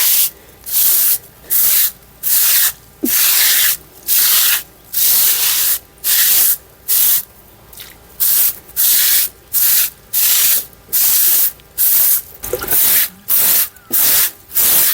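Rhythmic bristle strokes of a broom brushing damp-proof coating across a terrace roof, each broad scraping swish lasting about a second with short pauses between, close and steady through the whole stretch.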